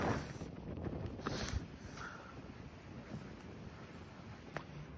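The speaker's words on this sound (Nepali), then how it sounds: "डाँडामा भएर अलि हावा धेरै चल्दो रहेछ" Strong wind on an open hilltop in Korea buffeting the microphone, a continuous rushing roar with heavier gusts at the start, steady and close throughout.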